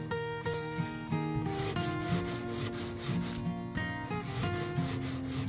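Sandpaper rubs around a ring in quick, repeated strokes, making a steady rhythmic scratchy rasp, with a tonal background sound running underneath.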